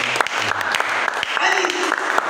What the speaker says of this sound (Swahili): Piga Bwana Yesu makofi.